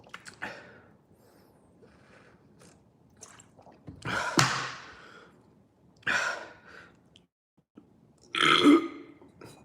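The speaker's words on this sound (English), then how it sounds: "Burps are gonna be included because that's what you guys want" Loud burps after finishing a drink from a bottle, several separate belches spread out with quiet breathing gaps between them, the last one long and forceful, close to the mic.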